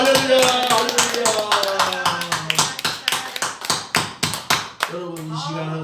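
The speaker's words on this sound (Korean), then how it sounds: "박수 한번 주세요." A church congregation bursts into clapping at a Christian praise festival, dense rhythmic applause that gradually settles into a steadier beat of slower, louder claps before fading, with voices mixed into the crowd.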